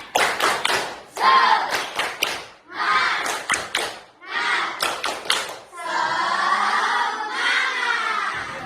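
A class claps in bursts of rhythmic patterns, with pauses between sets, ending in a sustained stretch of cheering and applause.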